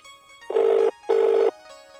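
A telephone rings unanswered in two long bursts, loud and close, with a pause between them and no voices.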